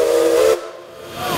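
A steam train whistle sounds at Knott's Berry Farm, a loud, bright tonal blast with heavy hiss that cuts off abruptly, followed by a quieter tail and rising steam noise.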